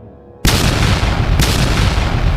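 After a moment of near silence, a sudden loud boom bursts out, followed by a second blast and a dense rumbling roar.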